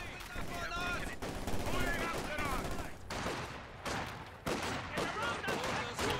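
MG42 machine gun fire in Company of Heroes 2, with dense bursts of rapid automatic gunfire and battle noise throughout, loud and close, under constant energetic commentary.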